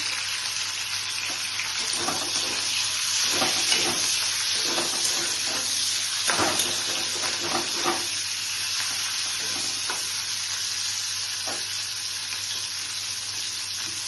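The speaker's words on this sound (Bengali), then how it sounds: "ক্যাপসিকামগুলোকে ফ্রাই করব। ক্যাপসিকাম দিয়ে দিলাম" Capsicum fries in a pan with a steady close sizzle, broken by scattered scraping stir strokes throughout.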